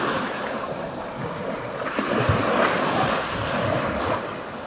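Sea waves break on a rocky, stony shore at Cape Rodon in Albania, a continuous loud wash of surf with wind buffeting the microphone and a slight swell near the middle, no voices.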